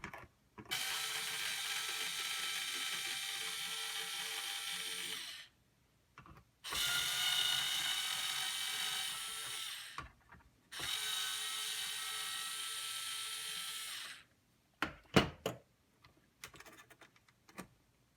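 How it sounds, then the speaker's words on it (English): Faceplate screws on a Cobra 18M radio are backed out with a ratcheting screwdriver in three long, even buzzing runs of rapid clicks separated by pauses, followed by a few sharp taps and clicks near the end. "I'm going to take each of these screws the rest of the way off."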